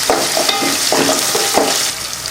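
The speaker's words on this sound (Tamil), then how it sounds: "எண்ணெய் சூடாக இருந்ததால் வத்தல் போட்டதுமே நல்லா பொரிஞ்சிடும்" Sun-dried berries and onions frying in hot oil while being stirred, a loud steady sizzle broken by repeated scraping strokes of a spoon in the pan, close by and without voices.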